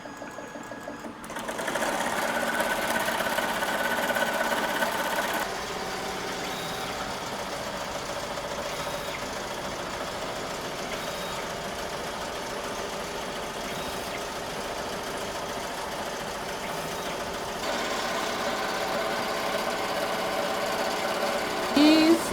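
An embroidery machine stitching out a 54,000-stitch design, its steady mechanical whir running continuously and fairly loud from start to finish with a brief shift partway through.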